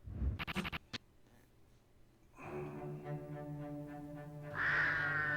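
A bird calls from a fantasy TV show playing in the room: a few harsh, scratchy caws up front, then a sustained tonal passage that swells toward the end, fairly quiet overall.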